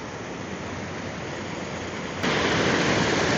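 Continuous rushing water from a waterfall in Glacier National Park roars steadily nearby, a dense wash of noise that grows louder partway through; no voices.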